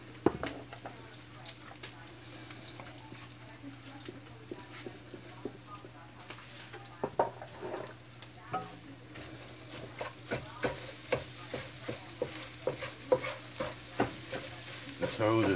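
Scrambled eggs sizzle in a hot pan while a utensil stirs and scrapes them, with a steady frying hiss beneath irregular clicks and taps that grow quicker and more frequent toward the end.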